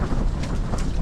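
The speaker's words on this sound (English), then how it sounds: "it is windier than heck" Strong gusting wind on a frozen lake during ice fishing, loud buffeting roar across the microphone throughout the short moment.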